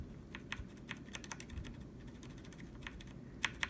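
Fast typing on a Corsair K65 RGB mechanical keyboard with Cherry MX Red switches, a steady patter of soft key bottom-out clicks with a few sharper strokes, close and alone with no talking.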